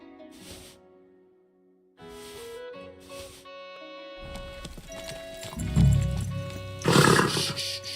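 A horse in the medieval video game Kingdom Come: Deliverance snorts and clops alongside game sound effects, building from sparse sounds to louder hoofbeats and a burst of noise near the end.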